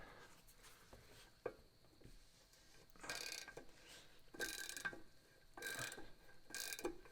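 Snap-on or Gearwrench XL ratcheting wrench working a fastener loose, close up: a sharp click, then several bursts of rapid ratcheting clicks separated by short pauses.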